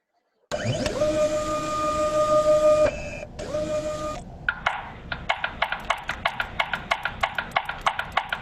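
A 3D printer runs with a steady whining motor tone that shifts pitch, then switches to rapid, evenly spaced clicking steps, close and clear with no talk.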